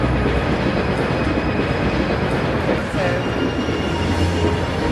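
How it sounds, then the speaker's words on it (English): A train rumbles past close by, with steady rolling wheel noise and faint metallic squeals over a loud, continuous roar. "So next train comes through."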